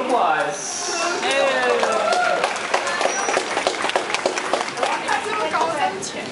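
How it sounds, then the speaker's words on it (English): Audience at the Vancouver Aquarium dolphin show applauds steadily, a broad crowd clapping with chatter and excited voices mixed through it, moderately loud throughout. "So we give them a round of applause."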